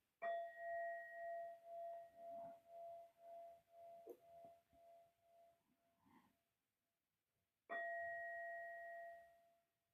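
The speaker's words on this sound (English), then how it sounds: "I will ring the bell 3 times." A meditation bell rings to close a session. Two clear strikes can be heard, each with a long, shimmering ring that fades into silence, and a short quiet gap separates them.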